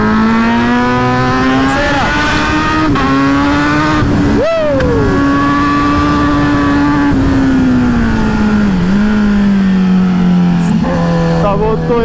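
A Kawasaki Z900 motorcycle is ridden hard on a road test, its engine note rising and falling through the gears, loud and close, with a short upward sweep partway through.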